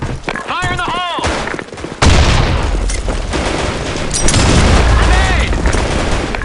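A grenade blast and rapid gunfire in the shooter game Black Shot, with sharp booms and dense bursts of shots, loud and close, mixed with game voices and electronic chirps.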